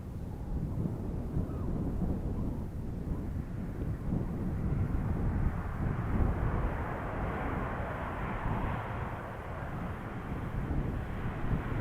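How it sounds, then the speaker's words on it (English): A WestJet Dash 8 turboprop arrives at Edmonton International Airport, a steady low droning roar heard from a distance and mixed with wind rumble, holding at a constant level with no talk throughout. "Coming is Dash 8, WestJet Dash 8 from Yellowknife."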